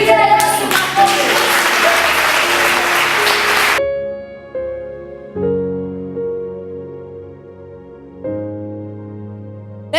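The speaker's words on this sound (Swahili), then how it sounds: "Pigia Yesu makofi" Congregation applause at a church service, dense clapping for a few seconds that stops abruptly, followed by sustained organ or keyboard chords ringing on alone.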